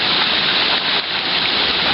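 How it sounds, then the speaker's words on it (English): Heavy rain pours down steadily on a stormy day at home, a dense, loud, continuous wash of falling water with no break and no voices. "It's like so much rain we're getting."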